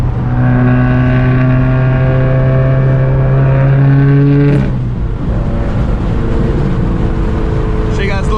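Subaru WRX driving with the windows partly down: loud, steady engine drone with rising gear tones that drop away near the middle as the car shifts, under constant wind and road rush.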